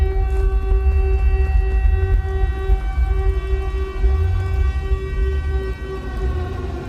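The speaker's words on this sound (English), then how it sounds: "Once you start hearing the familiar sounding siren and the controller starts vibrating like crazy" Silent Hill air-raid siren sounding in a modded Fallout 4 game, a loud, sustained, droning wail with a deep rumbling low end that holds steady and slowly wavers, with no talk.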